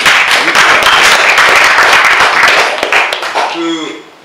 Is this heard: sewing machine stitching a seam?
no